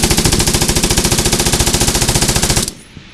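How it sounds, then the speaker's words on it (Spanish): A Czechoslovak machine gun fires one long, rapid, loud burst of evenly spaced shots, then cuts off abruptly into quiet. "vamos a utilizar ametralladora checoslovaca"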